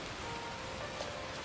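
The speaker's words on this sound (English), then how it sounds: "Oh no, it's raining." Rain falling in the video game Neverness to Everness, a steady even hiss of drops on surfaces filling the short stretch without pause.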